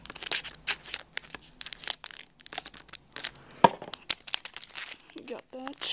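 Crinkling plastic wrapper torn and cut open on a Magic: The Gathering Rise of the Eldrazi fat pack, a burst of close crackling and tearing with short rustles, alongside bits of talk.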